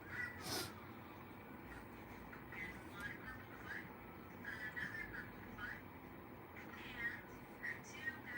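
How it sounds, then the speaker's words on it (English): A cat meows several times at a distance, faint drawn-out cries over a steady background hum, with a few crow-like caws and some muffled talk. "Oh, Prussian, I'm so glad that the cat is back."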